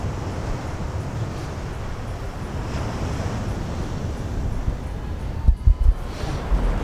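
Sea waves at the shore make a loud, steady rumbling wash with wind noise, followed near the end by a few sharp low thumps.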